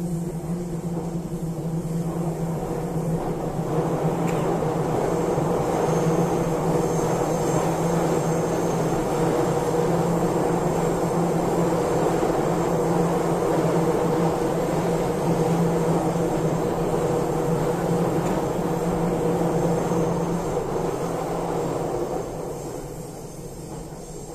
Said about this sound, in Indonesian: Itulah kereta ya. Kalau dia melewatin tikungan, dia akan berbunyi seperti itu.